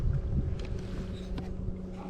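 Wind blowing over open water around a fishing boat, a steady broadband rush with low rumbling gusts and faint creaks from the hull, fairly loud and continuous with no talking.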